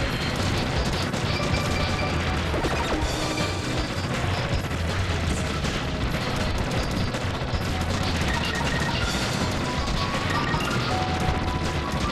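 Dense, continuous barrage of explosions and gunfire-like blasts from the Max Fire attack in Bangai-O HD, a loud, unbroken wall of booms and crashes throughout with no pauses.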